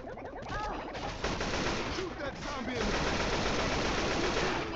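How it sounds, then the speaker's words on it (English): Rapid automatic gunfire in the zombie shooter Left 4 Dead 2 runs almost without a break. The dense, loud bursts overlap and swell over nearly five seconds. "Stop shooting me."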